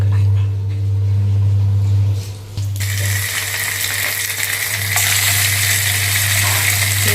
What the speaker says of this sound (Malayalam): വെളിച്ചെണ്ണ ഒഴിച്ച് മുളകൊന്ന് അതിലിട്ട് റോസ്റ്റ് ചെയ്തെടുക്കണം